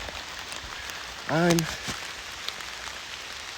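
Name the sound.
rain falling in the woods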